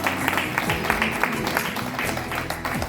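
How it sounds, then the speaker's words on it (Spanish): Church congregation clapping together during a Spanish and Italian sermon, a dense continuous patter of applause at moderate level with voices mixed in throughout. "voy dando un aplauso a esto."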